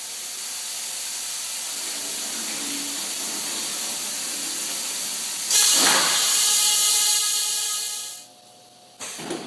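A hydrostatic testing machine drying a cylinder hisses loudly and steadily with rushing steam-like air, swelling into a brighter blast midway before cutting off abruptly, then a short burst resumes.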